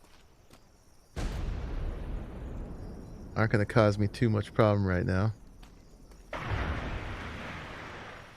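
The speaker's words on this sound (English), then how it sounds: "They're shooting cannons coming into our harbor." Ship cannons firing in the Atlas pirate game as enemy players approach a harbor: low booming blasts with rumbling tails arriving between spells of someone talking over them.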